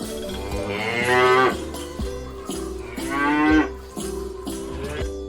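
A cow moos twice in long, drawn-out calls, loud and close, with a lower rhythmic rumbling and farm sounds between the calls.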